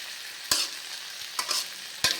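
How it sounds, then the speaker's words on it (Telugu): Half a kilo of okra frying in a pan gives a steady sizzle, broken by three sharp scrapes of stirring spaced roughly evenly; no voices. "అందుకే ఫ్రై చేస్తున్నాను హాఫ్ కేజీ బెండకాయ"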